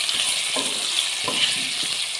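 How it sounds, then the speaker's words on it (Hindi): Potatoes fry in a pan with a constant bright sizzle and a couple of soft stirring scrapes, close and alone without talk. "तो देखिए अच्छे तरीके से आलू की आपने भुनाई करनी है।"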